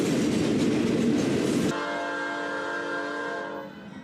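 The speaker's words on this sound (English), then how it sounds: "I remember this grain train. It had 4002 leading and a BNSF trailing." Norfolk Southern grain train with a BNSF locomotive trailing, passing close by: a loud horn blast gives way to a steady rumble of railcars, wheels and engine drone that fades slightly at the end.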